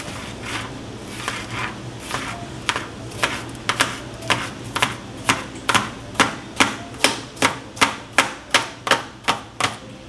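A kitchen knife chopping food on a cutting board, held with only two fingers, starting as light irregular taps and settling into a steady, loud, evenly spaced rhythm of sharp chops, close up with no talking.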